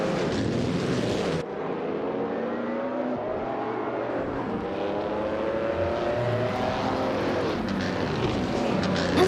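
1952 Ferrari 375 Indy race car in a racing video game, its engine droning steadily at high revs with rising and falling pitch, loud and continuous throughout.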